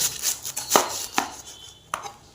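A knife cuts through cabbage on a board in four crisp, evenly spaced chops, close and clear, with no talking.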